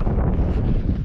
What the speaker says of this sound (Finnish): Tuuli käypi tuossa,